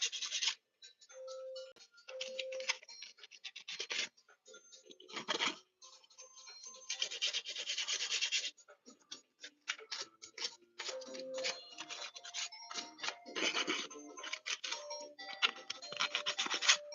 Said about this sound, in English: This needs some sanding.